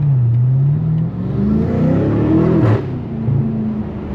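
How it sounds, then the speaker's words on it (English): A loud car engine revs up and down through a gear change, with a brief blip in the middle and a steady throaty drone. "Oh, downshift."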